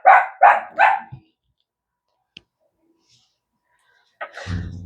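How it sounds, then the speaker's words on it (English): Several dogs bark in three loud, close bursts followed by a short single yip, then silence, with a faint rustle and a low noise near the end. "my dogs are barking again"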